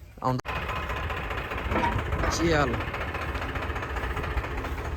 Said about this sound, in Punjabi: ਮੋਟਰ ਥੋੜੀ ਐ ਇਹ ਇੰਜਣ ਆ ਇਹਨੂੰ ਚਲਾ ਕੇ ਦੱਸੋ